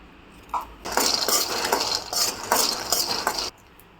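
Peanuts and coconut roasting in a pan give off a steady run of scraping stir strokes and light clinks of a utensil against metal, with no talk over them.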